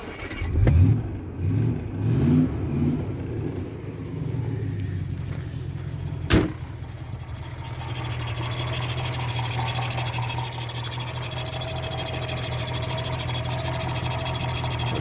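A Daimler car engine cranking briefly and catching, followed by a sharp click and then a steady, moderately loud idle after the ignition is switched on. The engine was being checked for a misfire after new HT leads were fitted.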